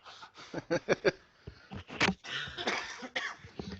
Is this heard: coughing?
yes